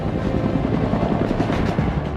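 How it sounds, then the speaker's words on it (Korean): An Army AH-1 Cobra attack helicopter on a flight line, its rotor and engine producing a loud, dense, continuous drone with rapid rhythmic beating, close and steady throughout. "바로 육군 항공의 꽃이자 지상전 핵심 전력 공격 헬기 코브라다"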